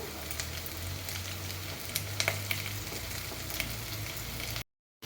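Capsicum frying in a pan for paneer pepper dry, a steady close sizzle with a few sharp pops and scraping stirs, no talking, cutting briefly to silence near the end.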